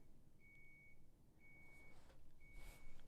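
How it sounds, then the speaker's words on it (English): A Japanese home appliance gives three thin, evenly spaced electronic beeps, each held for about half a second. They sound faint and distant over a quiet room background. "Japanese appliances beep like 10 times in a row, and they don't stop beeping until you go and turn them off"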